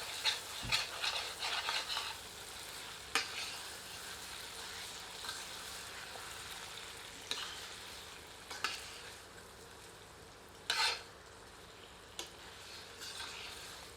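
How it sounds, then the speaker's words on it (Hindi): Chicken curry being stirred with a ladle in a pot over low heat, faint bubbling and simmering broken by several sharp scrapes and knocks of the ladle against the pot, no talk. "एक बार अच्छी तरह करछी चलाते हैं।"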